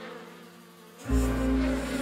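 Bees swarm around a hive in a cartoon, a dense buzzing drone that swells suddenly and stays loud and close, alone without talk.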